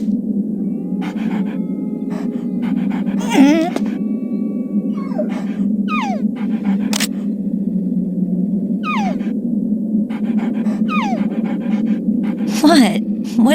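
Guard dogs in Metal Gear Solid pant rhythmically and repeatedly over a low droning hum, with occasional sharp whining yelps and whimpers cutting in, close and loud throughout.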